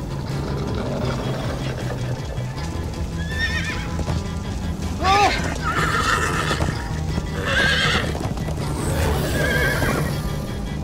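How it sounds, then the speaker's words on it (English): Horses whinny and neigh several times in Minecraft: Story Mode over steady clip-clopping hooves and a low rumbling background, with a voice briefly calling out. "Come on, horse! Slow down, horse!"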